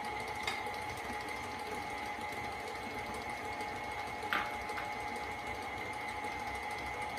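Electric mixer blending eggs into strawberry shortcake batter, a steady motor whir with a couple of faint clinks and no talking.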